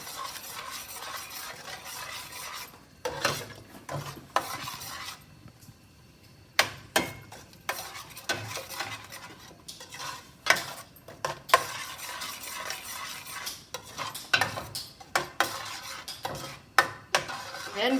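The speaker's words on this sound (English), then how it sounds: "Stir fry it for 2-3 minutes and then I will be adding my mashed vegetables." Pav bhaji vegetables are stir-fried in a pan with repeated scraping clatters of a spatula against metal over a soft sizzle, in irregular bursts.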